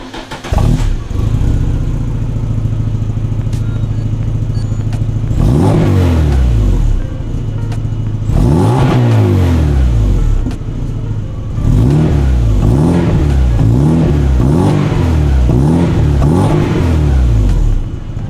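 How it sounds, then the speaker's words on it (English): A car with its current exhaust fitted is revved, deep engine idle rising into several loud, close revs that swell and fall repeatedly, with no talking. "let's do a quick sound check of the current exhaust."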